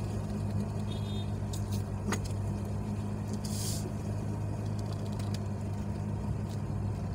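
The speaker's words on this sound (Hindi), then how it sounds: "मैं ज़रा यहाँ से गाड़ी निकाल लूँ, बड़ा ही मसला होता है, इतनी गंदी ट्रैफिक होती है ना।" A car pulls out through heavy, congested traffic on a road blocked by trucks, with a steady low engine rumble and road noise throughout and a brief louder swish passing partway through.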